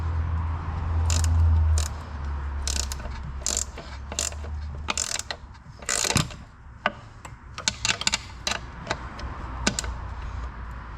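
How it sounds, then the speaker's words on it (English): A gear wrench ratchets on the A-arm guard bolt of a Can-Am Defender Limited, a close, rapid clicking that comes in short repeated bursts with pauses and a few brief metallic taps between strokes. "you're going to need to use a gear wrench"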